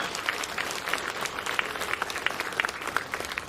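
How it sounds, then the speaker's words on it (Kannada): A crowd at a hotel inauguration in Kundapura applauds, a steady burst of many hands clapping with sharp individual claps rising and falling, fairly close and with no voices over it. "ಸ್ವಲ್ಪ ಜೋರಾಗಿ ಚಪ್ಪಾಳೆ ಹೊಡಿಬೋದು"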